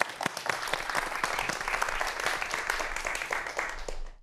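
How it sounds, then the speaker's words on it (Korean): Audience applause welcomes a lecture on the history of space exploration, dense clapping sustained steadily for about four seconds before cutting off abruptly. "강연 큰 박수로 청해 보겠습니다"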